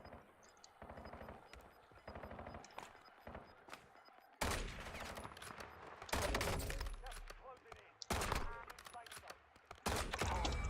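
Warzone gameplay with dense automatic gunfire, long loud bursts of rapid shots crackling close by, separated by quieter stretches of softer clicks and distant pops, with no talk over them.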